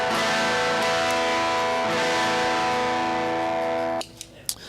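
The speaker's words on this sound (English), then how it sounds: "So that is a silicone-based fuzz." A fuzzy, distorted guitar chord through a silicon fuzz pedal rings out loud and sustained for about four seconds, then cuts off abruptly, leaving a few faint clicks.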